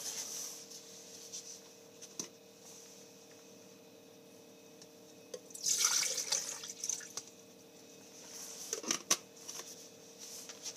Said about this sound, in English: put my water in here